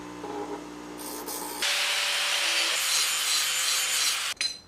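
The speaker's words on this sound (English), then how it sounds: "Then I clean them up with the grinder." A grinder cleans up freshly cut raw material parts for building wooden clamps, starting with a lower machine tone and then a loud, steady broadband grinding rush for about three seconds before it cuts off.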